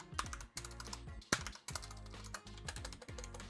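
Typing on an HP Omen Encoder full-size mechanical keyboard with a flat aluminum deck, a loud close-up clatter of quick keystrokes in bursts with short pauses and a few heavier stabilized key hits, no talking.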